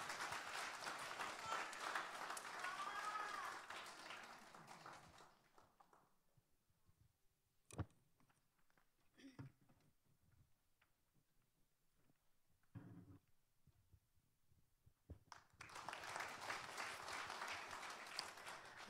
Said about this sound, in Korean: 우리 선생님 나올 때 박수로 마주해 주시면 감사하겠습니다.